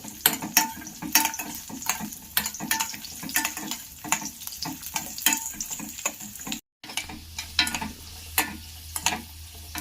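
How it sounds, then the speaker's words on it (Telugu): Dry fruits frying in a pan for payasam, with a continuous sizzle broken by frequent scraping stirs and clicks of the spoon against the pan. The sound is close and stays busy throughout, with a brief dropout midway and no one speaking. "ఈ డ్రై ఫ్రూట్స్ని ఫ్రై చేసుకోవాలి."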